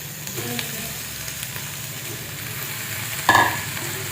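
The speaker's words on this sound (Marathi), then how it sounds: "आता बटाटा टाकून आपण चांगलं परतून घेऊ" Chopped potato tossed with roasted green chilies in a hot pan gives a steady low sizzle with soft stirring scrapes, then a brief louder clatter near the end.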